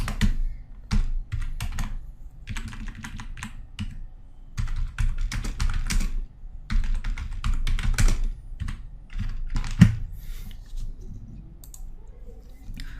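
Rapid bursts of keystrokes on a computer keyboard while typing HTML heading tags, close and crisp, in irregular clusters separated by short pauses.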